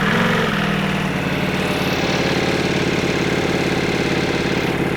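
A Ducati Multistrada V4S motorcycle engine idles after a cold start, having sat unused for a month. The note is loud, steady and close, with a rough, clattery mechanical rumble running unbroken and no voices.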